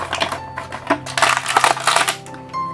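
A Bakugan Battle Planet toy single pack is being torn open, with several bursts of crinkling, crackling plastic and cardboard rustle, close and fairly loud, with no talking.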